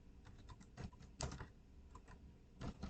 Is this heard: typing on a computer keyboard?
yes